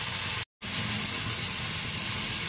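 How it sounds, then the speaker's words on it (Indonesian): Spice paste for a thick crab curry sautéing in a pan, a loud steady hiss and sizzle with a brief cut in the middle, no voices over it. "ini bumbunya tumis dulu"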